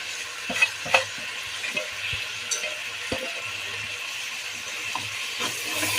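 Chicken biryani masala sizzles and fries in a pan while a spoon stirs it, with soft scraping strokes and light taps over a steady low hiss, close and fairly quiet.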